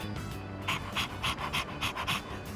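Koromaru, a dog in the video game Persona 3 Reload, panting in quick rhythmic breaths, close and steady over a soft game music bed, with no talking.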